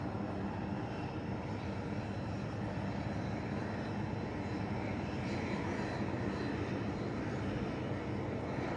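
An aircraft taxiing at the Waddington Airshow produces a continuous engine drone. The hum is fairly soft and steady, with no breaks from start to finish.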